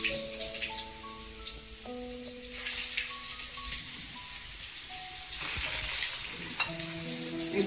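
Pieces of paneer frying in hot oil, a steady close sizzle that swells in bursts as the pieces are stirred, with some light clinks and other kitchen sounds in the background.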